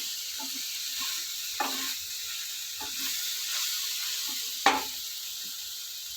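Ivy gourd coconut curry sizzles steadily in a pan just after chili powder goes in. A spoon scrapes and stirs it in a few distinct strokes, the last one loud and sharp.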